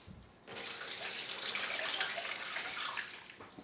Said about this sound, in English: I'll keep adding water until I think I have enough water to cover the fillets